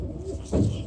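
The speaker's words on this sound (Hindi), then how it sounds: "ये कबूतर है" A pigeon coos once, a short, low, close-up call over a faint background.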